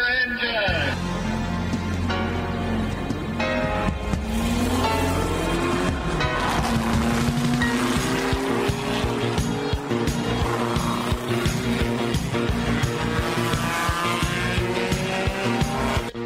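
Race car engines fire up and roar in a radio show intro for a speedway report, loud revving tones rising and sweeping under layered music and a booming announcer voice throughout.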